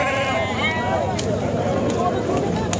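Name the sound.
Madgyal sheep bleating at a market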